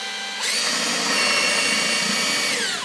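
A power drill bores into wood while a folding camping table is made, its high whine starting abruptly and holding steady, close and loud, before cutting off.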